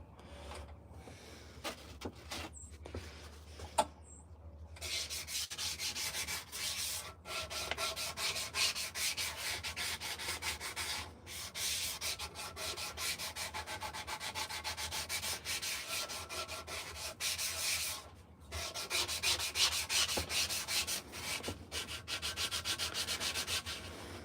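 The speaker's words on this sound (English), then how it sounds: "these sanding blocks are really neat to have." A carved wooden spoon worked with a sanding block in a workshop, long continuous rasping strokes of abrasive on wood, close and steady, after a few brief knocks and short pauses at the start.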